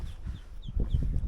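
A duck on board a small boat or kayak gives a string of soft clucking, quacking calls close by, over a low, uneven rumble of movement and water.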